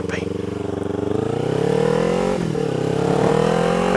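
A motorcycle engine revs up under the throttle, its pitch rising over the first couple of seconds and then holding at a loud, steady drone with a brief dip midway, heard close up.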